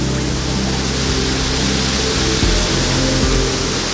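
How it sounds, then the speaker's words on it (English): Small, picturesque waterfall pouring steadily, a dense continuous rushing roar that stays even and close throughout. "This is a really beautiful waterfall."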